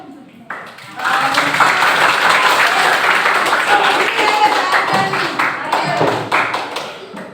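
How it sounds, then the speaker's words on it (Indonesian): A class in an Indonesian computational-thinking lesson claps together on the teacher's cue, a dense, steady burst of many hands that starts after a brief pause and holds for several seconds, with voices mixed in. "Beri tepuk."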